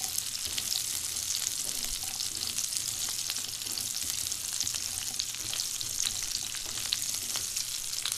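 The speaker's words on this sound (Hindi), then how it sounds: "अच्छे से पहले इसको एक बार चलाएंगे।" Tinda pieces frying in oil with mustard seeds and cumin while being stirred, a constant loud hiss peppered with rapid crackles and pops, close up and without speech.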